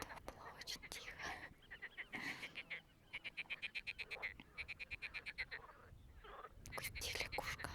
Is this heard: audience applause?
no